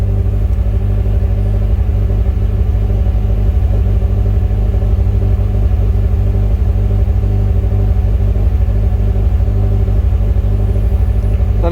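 Mazda Miata engine with SpeedyEFI fuel injection idling, a loud steady low rumble with a pulsing throb that holds even throughout, close by and without speech.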